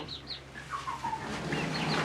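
Backyard chickens in a small flock of eight cluck and squawk softly nearby, a few short rising calls scattered over a quiet background.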